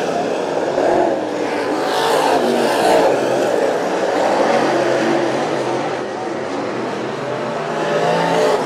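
Race cars lapping a track during a heat race, their engines blending into a constant, loud roar with slight swells as the pack circles.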